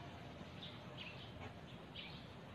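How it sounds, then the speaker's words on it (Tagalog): Birds chirp near Mactan New Town Beach, a few faint, short high tweets scattered over a soft, steady outdoor background. "Huni ng mga ibon."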